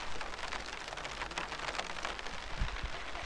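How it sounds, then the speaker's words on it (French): Steady rain arriving over a vegetable plot where peppers are being planted outdoors, a continuous soft hiss of falling drops, moderately faint and unbroken, with no voices. "Il pleut, ça y est, ça arrive de par là-bas, écoutez-moi ça."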